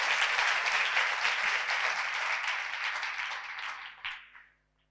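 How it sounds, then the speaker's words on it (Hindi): A congregation at a Christmas sermon service claps in welcome, a steady burst of applause that tapers off and stops after a few seconds. "तालियों के साथ कलाम को वेलकम करें।"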